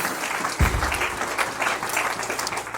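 A church congregation claps together in sustained, dense applause during a sermon. The steady patter rolls on throughout with a brief low thump near the start.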